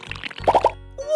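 Small soap bubbles burst in three quick, close, wet little pops, one right after another, with brief lively sounds before and after.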